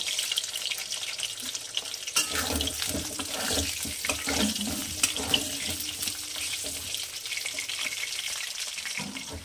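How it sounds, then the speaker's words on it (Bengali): Cut potatoes fry in oil for a Bengali katla fish curry, a busy crackling sizzle that jumps louder after a quieter start, with scraping stirs and clatter mixed in, close and without speech. "এবারে আমি দিয়ে দেব কেটে রাখা আলুগুলো। আলুগুলো আমি একটু লাল করে ভেজে তুলে নেব।"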